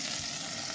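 Hilsa fish frying with pointed gourd in a pan, giving a steady, close hiss of sizzling oil throughout a brief moment.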